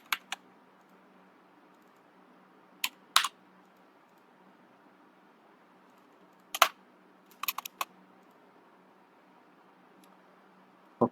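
Short bursts of keystrokes on a computer keyboard, a few isolated clicks separated by quiet pauses, close but faint against a soft steady hum.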